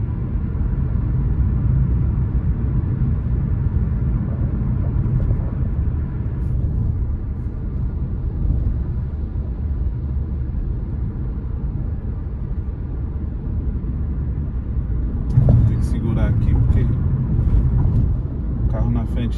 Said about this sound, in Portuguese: Tem carro ultrapassando aqui.